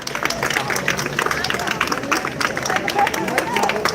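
Outdoor crowd at a street protest in New York over a carriage horse's death claps and cheers for activists, steady broadband clapping mixed with crowd babble throughout.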